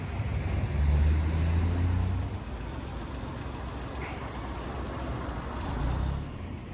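Traffic at a busy road junction beside a church in Shrewsbury: a steady wash of passing cars and heavier vehicles with low engine rumble swelling and easing, no talk.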